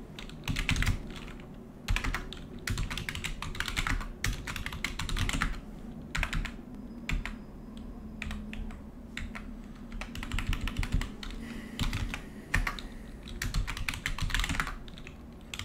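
Someone types a password on a computer keyboard while creating a user on Arch Linux, with bursts of quick, close key clicks separated by short pauses.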